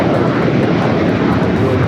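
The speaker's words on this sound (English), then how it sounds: "This is United Airlines 1260 taking off to Columbus, Ohio on the 737-800" A United Airlines Boeing 737-800 jet takes off from Los Angeles airport, its engines giving a loud, steady broadband roar that holds without a break for a couple of seconds.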